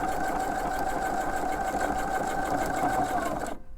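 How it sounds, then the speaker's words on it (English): A sewing machine stitches steadily around a knit fabric hem, its motor whirring in a continuous fast rhythm close by before stopping abruptly near the end. "Going to sew around till I come up to where I started."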